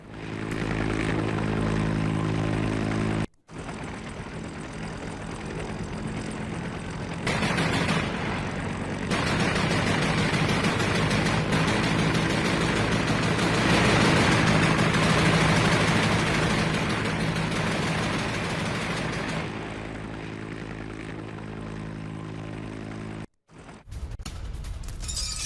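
Ka-52 attack helicopter engines and rotors roar loud and steady over a military post, a continuous heavy drone with brief cut-offs near the start and end.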